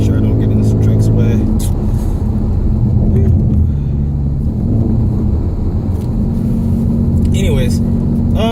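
A V6 Ford Mustang with a Borla S-type exhaust cruising through town and shifting gears, a deep, loud engine drone that rises and drops between gears, heard from inside the car with someone talking over it.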